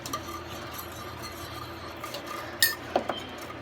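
Cheese grits being stirred in a pot for breakfast: a spoon scrapes and clinks softly against the metal in a steady low rhythm, with a couple of sharper taps near the end and no talking.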